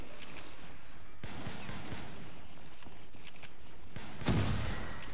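Shotgun blasts fired at Panzers in a zombie-mode video game ring out as several sharp reports over a dense, noisy battle background, with a heavier thump near the end.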